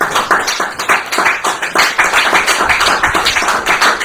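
A church congregation bursting into sustained, dense applause, many hands clapping loudly and evenly for several seconds.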